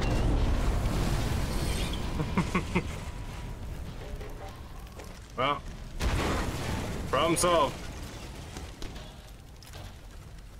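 An explosion in the Sniper Elite 4 game rumbles loud at first and then fades into a long, decaying roar, while someone talks over it in short remarks.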